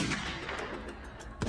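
Gunshots as a sound effect in an animated horror story, with sharp reports over a dense, noisy background and a final burst near the end.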